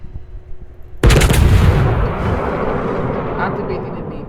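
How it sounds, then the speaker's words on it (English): Main battery volley from a Tier X French large cruiser, the Marseille, in World of Warships: a sudden loud booming salvo of naval guns erupts after a quiet second, then rolls into a sustained rumbling wash of gunfire and echo. "Activating the main battery reload booster after the first volley shots."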